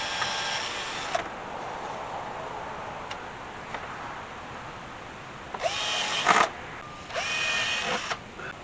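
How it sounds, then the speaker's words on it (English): A power drill bores holes in homemade door panel inserts, with a short burst near the start, a couple of faint ticks, then two louder drilling runs about a second each near the end, all close and otherwise quiet. "just go drill me a hole in each one"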